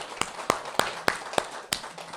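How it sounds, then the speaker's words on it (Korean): Congregation clapping at a Sunday Buddhist service, heard as a few sharp, separate claps in a slow, even rhythm, moderately close and alone. "다 함께 다시 한번 박수 보냅시다."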